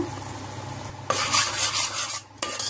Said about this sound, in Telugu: ఒకసారి కలిపేసుకున్నాము.